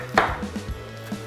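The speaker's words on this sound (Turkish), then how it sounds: "Bunu ince ince, minik minik, küp küp doğrayacağım" Knife chopping half a small red onion into fine cubes on a cutting board, a few sharp separate taps spaced irregularly, close and fairly loud with no talk.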